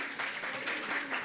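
Delegates in a student General Assembly simulation applauding after a draft resolution passes, a steady patter of clapping from a moderate-sized room, moderately loud and continuous.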